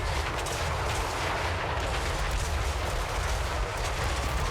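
Towers in a fantasy strategy game firing magic ammunition, a constant roaring barrage of blasts and rumbling impacts that fills the whole stretch without pause.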